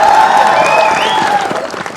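A crowd at a Hindi poetry recital bursts into sustained clapping, loud and close at first and then tapering slightly, with a faint voice or tone sliding through the middle.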